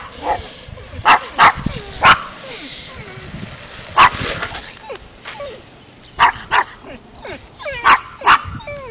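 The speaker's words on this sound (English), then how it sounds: "the dogs are going crazy because I see that dog down there" Several dogs at a beach bark excitedly in loud, sharp bursts of two or three, separated by short pauses. Yips and whimpers sound between the barks.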